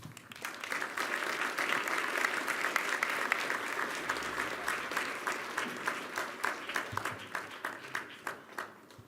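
Warm audience applause fills a large hall after a UN Secretary-General's address, steady dense clapping that thins slightly toward the end, with individual claps becoming more distinct.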